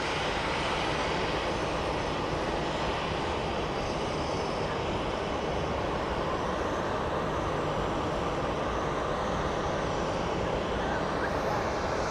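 A rough-sounding airplane engine at Phoenix Sky Harbor International Airport drones as a continuous broad roar, steady and fairly loud for the whole stretch.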